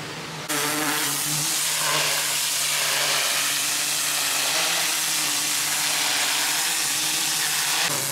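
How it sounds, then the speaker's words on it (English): A high-pressure washer blasts marine growth off the bottom of the sailboat Zephyr IV's hull in a yard. The loud hiss with a droning motor starts abruptly and holds steady throughout. "The high pressure washer makes short work of cleaning her bottom."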